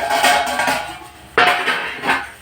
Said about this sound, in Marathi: आता आपण झाकण उघडून बघणार आहे